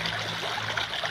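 Irrigation water for a cucumber field runs in a steady, close trickle and stream, a continuous wash of flowing water with no voices.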